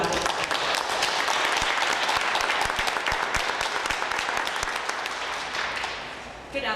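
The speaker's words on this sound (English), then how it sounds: "Let's give Mr. Thorcell and the ROM one more big round of applause" A crowd at a media conference for the Imperial Ball at Toronto's Chinese Cultural Centre applauds the ROM, a dense, sustained round of clapping that thins and fades out at the end.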